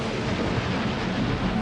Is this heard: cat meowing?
no